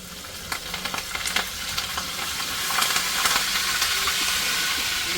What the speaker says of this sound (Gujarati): હવે આપણે નાખી દઈએ લસણ અને લીમડો